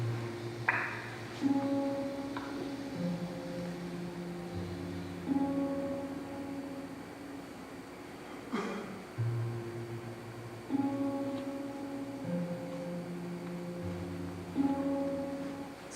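A randomly generated bass line in 6/4 time loops as low, steady synthetic notes, with a lighter tonal layer above and soft attacks recurring at regular intervals.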